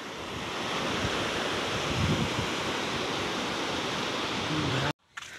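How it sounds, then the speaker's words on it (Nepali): Flooded river water rushing past, a loud, continuous broadband roar close by with wind buffeting the microphone, then a brief cutout near the end. "हामी यहाँ चाहिँ यति ठुलो बाढी आइरहेको छ"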